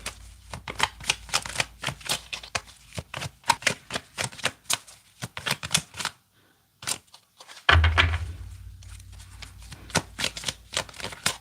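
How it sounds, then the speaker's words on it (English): Tarot cards shuffled by hand in quick repeated riffles and taps, near and crisp, pausing briefly midway before a thump and another round of shuffling. "let me get 3 good shuffles here"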